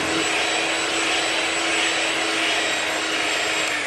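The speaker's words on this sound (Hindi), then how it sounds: "अच्छा, मेरे पास हैंड बीटर था" An electric hand beater works pizza dough in a home kitchen, giving a steady, loud motor whine with a constant pitch and buzzing edge, running without pause and with no one speaking.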